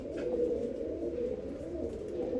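Soft, low cooing from pigeons continues steadily at close range, with faint background noise and no speech.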